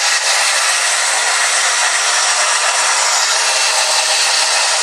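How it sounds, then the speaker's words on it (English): A hairdryer runs on its low setting during hair styling, a steady, close, even whoosh of blown air that holds without a break for the whole stretch, with no talking. "turn the hairdryer back to low"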